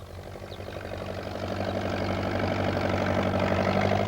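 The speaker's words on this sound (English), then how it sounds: "Peter Fogg came along on his tractor" Peter Fogg's tractor idles with a low, steady diesel rumble and rhythmic chugging, growing slightly louder as it draws closer, with no talk.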